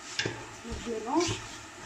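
Vegetables are stirred in a pot with ras el hanout and salt while cooking a Moroccan vegetable couscous, giving a quiet, brief scrape and shuffle of spoon against pan with soft sizzling underneath.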